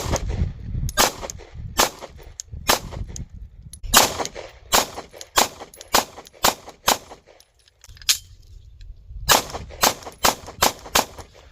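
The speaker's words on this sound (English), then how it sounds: "I'm going to go ahead and take a couple shots so you can see the controllability of the 26X" A Glock 26X subcompact pistol fires a long string of sharp, loud shots at close range, some spaced and some in fast bursts, with a brief lull partway through.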